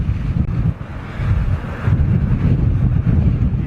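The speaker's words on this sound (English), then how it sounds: "There goes that 380 going out." An Airbus A380 jet taking off into a direct headwind, a loud, continuous low roar mixed with heavy wind buffeting on the microphone.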